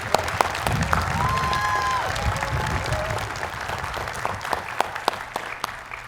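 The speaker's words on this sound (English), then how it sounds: "Please join me in giving her another warm round of applause to welcome her to Carnegie Mellon" Warm round of applause from a large crowd at a Carnegie Mellon University commencement ceremony, a continuous wash of clapping with a few sharper individual claps standing out near the end.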